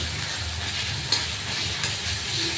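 Onion and chhena frying in hot oil in a pan: a loud, close, continuous sizzle with a faint clink of stirring partway through.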